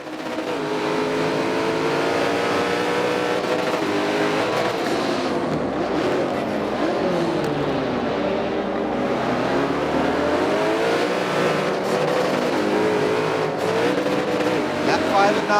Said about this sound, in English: Maybe we can sit back and listen in on that incredible twin-turboed engine